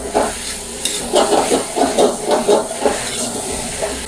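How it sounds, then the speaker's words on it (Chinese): Mushrooms with soy sauce, salt, sugar and seasoning are stir-fried in a wok, with loud, steady sizzling and hiss under rapid, rhythmic scraping tosses close by. "把调味料炒至融化的状态"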